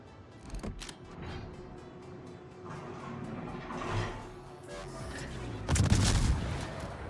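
Naval gunfire from a Yodo destroyer in World of Warships, a series of booming game shots over a steady rumbling engine bed, with a heavier burst near the end.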